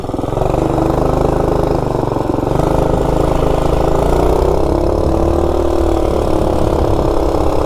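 A Coleman RSV minibike's small engine runs steadily at a fast, high idle, a loud close buzzing drone that holds even throughout with no talking.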